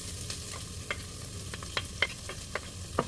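Garlic sizzling in a hot pot as a utensil stirs it, with soft scraping clicks scattered over a steady low frying hiss, close and fairly quiet.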